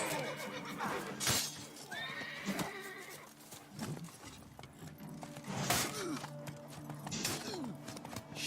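Roach, Geralt's horse in The Witcher video game, whinnies in a few short neighing bursts amid a busy game soundscape with hoof and gear-like clatter, loud and fairly close.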